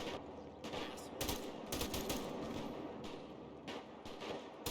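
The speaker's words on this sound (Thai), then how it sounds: "ใครยิงปืนอะไรเนี่ยแบบนี้เนี่ย" Rapid bursts of gunfire in GTA V with a zombie mod, loud and continuous, with dense crackling shots layered over a rumbling background.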